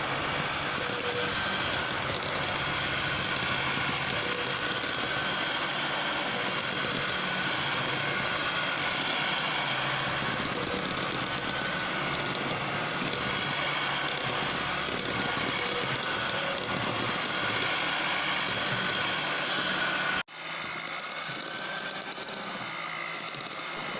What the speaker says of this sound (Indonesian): Kembali kita mixer. Ini kecepatan rendah, kalau enggak tepungnya bakal terbang semuanya.